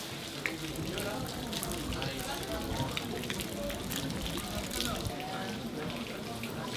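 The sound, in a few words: rain falling in a Kyoto Zen temple garden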